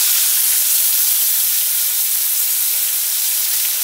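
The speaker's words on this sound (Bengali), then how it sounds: "কুচানো পেঁয়াজটাকে একটু ফ্রাই করে নিচ্ছি।" Chopped onion fries in hot oil for an egg curry with coconut milk, giving a loud, dense, unbroken sizzle that holds steady and close throughout.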